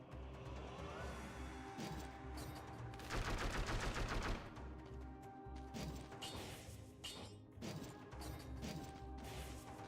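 Twin daggers weapon in a video game firing over and over, a dense rattle of rapid shots with crashing impacts, loudest in a sustained stretch near the middle amid busy game noise.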